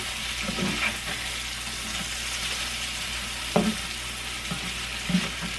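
Steady, broadband sizzle of summer squash slices frying in a pan, with a few soft clacks of utensils turning them.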